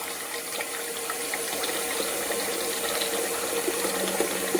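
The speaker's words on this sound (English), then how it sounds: "So I'm gonna cool it down with cold water so they don't stick." Cold tap water runs steadily and hisses, splashing over cooked noodles in a sink without a break, with no voices.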